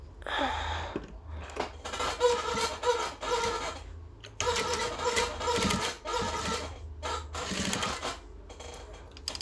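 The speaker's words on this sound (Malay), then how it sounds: "Barulah kita jahit." A sewing machine stitches a raihan-style kurta collar with a zipped placket in fast rattling bursts, stopping and restarting several times, loud and close, with no talk.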